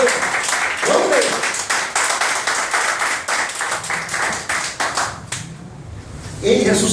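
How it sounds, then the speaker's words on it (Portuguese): Church congregation applauding together, a dense sustained wash of clapping that runs for several seconds, with a voice speaking over it near the end. "dá uma salva de palmas para o Senhor de Deus"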